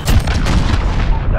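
A missile strike explodes in Call of Duty: Modern Warfare, a loud close boom with heavy rumbling low end that fills the whole short moment.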